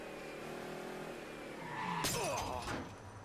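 A car in Mafia III rolls along under engine noise, then crashes through something, giving a burst of skidding, shattering and scraping about two thirds of the way in, fairly quiet overall.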